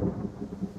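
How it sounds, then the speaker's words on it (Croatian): Thunder rumbles low and steady, close and moderately loud, in the survival game The Forest as rain begins, a brief deep roll with no voices. "I baš se mora početi grmiti i kiša padati."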